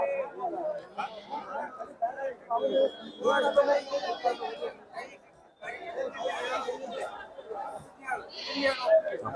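Sheep bleat among a chattering crowd at the Hosadurga sheep market, several short bleats rising through the busy talk of buyers and sellers nearby.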